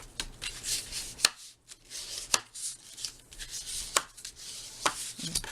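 A foam folder presses and smooths paper down onto a handmade storybook cover, giving a run of sharp dry taps and brushing scrapes at irregular intervals, close up, with no voices.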